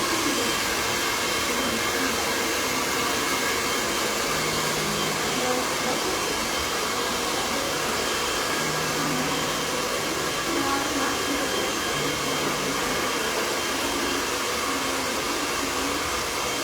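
An electric hair clipper cuts hair with a continuous, close, steady whirring motor drone that barely changes for the whole stretch. Nobody speaks over it.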